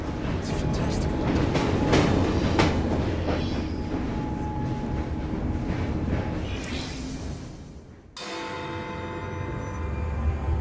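A train in Assassin's Creed Syndicate rolls steadily along with a continuous rumbling clatter and rhythmic rail clicks, shifting in tone near the end, while a voice is faintly present underneath.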